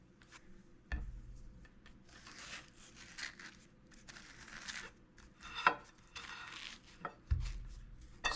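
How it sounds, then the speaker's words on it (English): A knife cutting the seeds out of a Costco Tuscan melon, making quiet, scattered scrapes and soft squishy cuts, with a few sharper knocks against a board. "So what you want to do is cut the seeds out."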